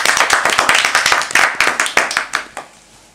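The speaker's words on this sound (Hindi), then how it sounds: "तारीफ, जोरदार तालियां।" Audience clapping for a poet at a children's poetry gathering, a loud, close burst of hand claps in an uneven pulse that thins out and stops near the end.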